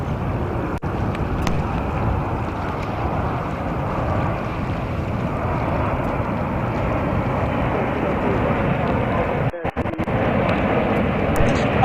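Loud, sustained jet roar of an Iberia airliner from Madrid landing on runway 04 right at JFK, heard outdoors from a distance with heavy wind buffeting the microphone and a brief dropout near the end.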